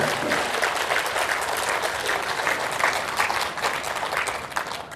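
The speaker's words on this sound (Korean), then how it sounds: "박수 한번 주세요" A crowd at a Korean lecture-style talk gives a round of applause, dense continuous clapping at a steady loud level throughout, with no talk over it.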